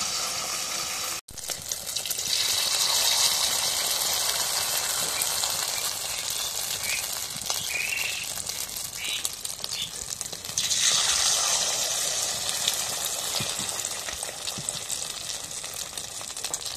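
Beaten eggs fry in hot oil in a wok, giving a steady loud sizzle that swells and hisses for many seconds after a brief cutoff at the start.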